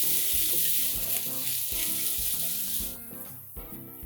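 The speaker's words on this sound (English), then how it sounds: "let's add in paste of ginger and garlic. Let's saute this for a couple of seconds." Ginger and garlic paste sautés with golden-browned onions for a curried vegetable pulao, giving a bright, continuous sizzle close up that runs under steady background music.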